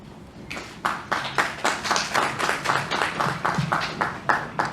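An audience at a scientific awards ceremony claps for a distinguished scientist from Rajshahi University, Bangladesh: after a short pause, a brisk, rhythmic wave of claps builds and holds at a steady beat, moderately loud.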